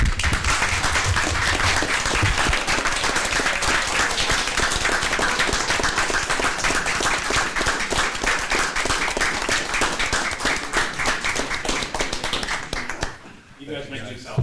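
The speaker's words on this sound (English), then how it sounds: "If I could get applause for them." A town council meeting audience applauds police officers receiving a life-saving award, loud, dense clapping sustained for about thirteen seconds before stopping abruptly, with voices underneath.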